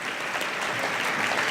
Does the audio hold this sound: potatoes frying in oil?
no